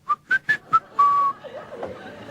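A voice imitates a woman whistling during a joke, with four quick bright whistled notes and one longer held note, then soft chuckling and murmurs.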